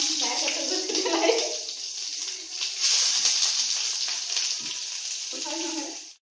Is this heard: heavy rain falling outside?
no